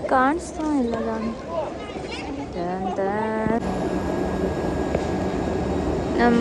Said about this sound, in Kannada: ನಮ್ಮ ಟ್ರೈನ್ ಬಂತು ಜಾನಿ.